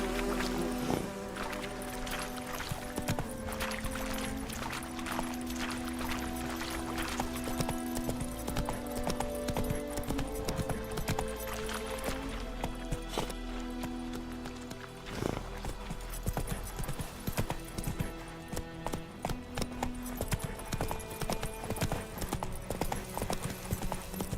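Roach the horse galloping in The Witcher 3, steady rhythmic hoofbeats clopping close and loud over a lingering musical drone, continuing for the whole stretch with brief pauses in stride.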